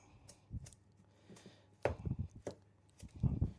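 Softened butter being creamed by hand in a bowl for a Victorian Christmas cake, heard as several bursts of scraping, thudding strokes separated by short pauses, close and fairly quiet with no talk.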